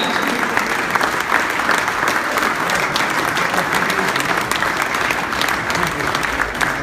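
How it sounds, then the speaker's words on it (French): Loud, sustained applause from a large crowd at a New Year's reception at Paris City Hall, steady clapping throughout with no pause. "j'aimerais qu'on applaudisse très fort notre ami Thierry Staron"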